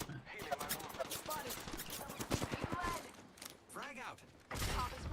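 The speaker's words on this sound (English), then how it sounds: "The enemies are shooting at me." Enemy gunfire in Apex Legends: rapid bursts of automatic shots in a fast rattling stream, mixed with mechanical clanks and game effects, with a player's voice talking over parts of it.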